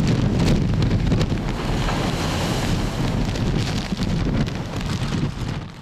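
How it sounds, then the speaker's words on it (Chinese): Storm waves surge one after another onto a Hong Kong seafront promenade in a typhoon, heavy churning water under a constant loud wind roar and microphone buffeting, with no talk. "一浪接一浪"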